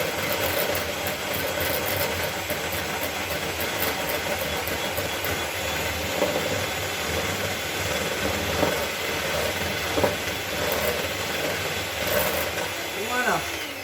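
Electric hand mixer whirring steadily through chocolate cake batter made with red beans, a continuous close mechanical drone with faint rattling and no speech over it.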